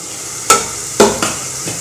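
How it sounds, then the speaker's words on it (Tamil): Whole spices, including cinnamon, cardamom, star anise and cloves, dry roast in a pan over a steady low hiss, punctuated by four sharp scraping knocks of a spatula at uneven intervals, close and fairly loud. "இதை வறுத்து அரைக்க போகிறோம்"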